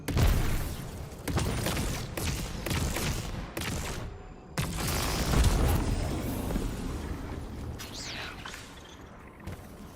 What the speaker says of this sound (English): Guardian, it's supercharging the cannon.